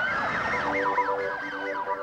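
A wailing emergency siren sweeps up and down repeatedly at night in San Francisco, steady and moderately distant, with no voices.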